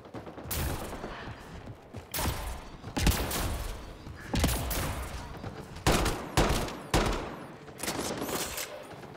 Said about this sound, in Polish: Są strzały.